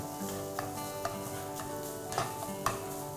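Pickled radish and garlic stir-fried in a wok over low to medium heat, giving a steady soft sizzle with a few light scraping taps from the spatula, close and without voices.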